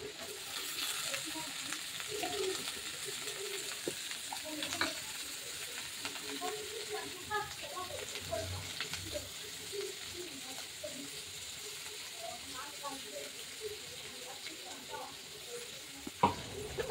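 Onion and capsicum sautéing in oil for homemade chilli chicken, a soft steady sizzle with scattered crackles and occasional clinks, low and continuous throughout.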